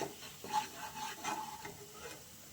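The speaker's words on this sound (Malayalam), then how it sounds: "അത് ഇളക്കി കൊടുക്കാം ചെറുതായിട്ടൊന്ന്" Chili powder being stirred into a dried mango pickle, a soft scraping, rubbing sound with faint sizzle-like hiss, steady and close, with no talking.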